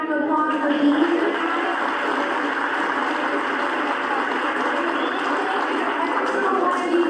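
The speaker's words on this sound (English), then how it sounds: "If y'all can give them a big round of applause for being here." An audience at a civic center event in Port Arthur applauds, a dense, steady wash of many hands clapping that stays loud and continuous for the whole stretch.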